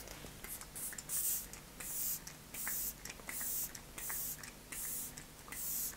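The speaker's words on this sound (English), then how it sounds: "This one is so easy to overdo because the mist is so nice." Makeup setting spray misted in a quick run of short, sharp pumps, each burst a soft airy hiss, close and fairly quiet with brief gaps between sprays.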